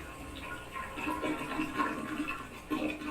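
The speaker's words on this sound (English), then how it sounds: "that's a good flush you put at the end of that" A toilet flushes, caught by a microphone held up close to the bowl, a gurgling, rushing stream of water with bubbly swirls running throughout at moderate loudness.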